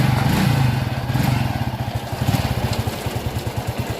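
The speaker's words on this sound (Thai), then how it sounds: "ทำเสร็จแล้วลองติดเครื่องดูสิเป็นยังไง" A freshly repaired motorcycle engine starts and runs, settling into a rapid, even putt-putt idle with a loose mechanical clatter, close and fairly loud, and nobody speaking.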